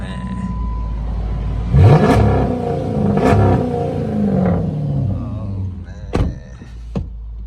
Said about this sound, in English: Oh, the big HEMI V8,